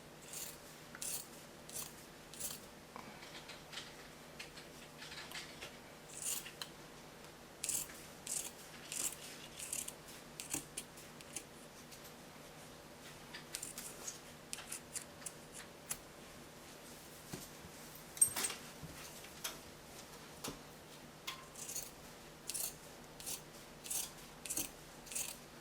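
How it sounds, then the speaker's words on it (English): Scissors snipping through the seam of a cotton T-shirt being cut into yarn, a long run of quiet, close crunching cuts in irregular bursts. "And you cut through the first seam"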